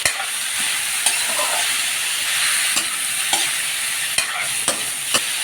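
Meat frying in a pan with garlic and onion for a simple beef pares, a steady bright sizzle with sharp utensil clacks from stirring every second or so, close and without talk.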